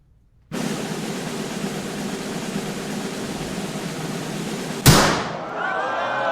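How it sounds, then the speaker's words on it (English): A single sharp gunshot in an audio drama bursts out near the end over a steady hiss of background noise, then rings off and fades into quieter ambience. "Smoke escapes the gun as the amazing Ace falls to the ground."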